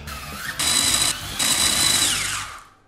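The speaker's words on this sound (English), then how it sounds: "Shall I blitz my stale white bread?" A blender blitzes stale white bread into breadcrumbs, a loud whirring motor roar that surges in two pulses with a brief dip between, then winds down and cuts off.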